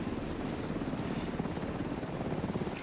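A helicopter in The Division video game, a steady rotor-and-engine rumble with fast low pulsing that holds at an even level throughout, with no speech.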